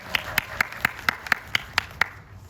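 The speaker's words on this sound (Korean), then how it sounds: "박수 부탁드립니다" Clapping at a movie promotion talk event, heard as roughly nine crisp, evenly spaced claps in a steady rhythm, close and distinct, before stopping.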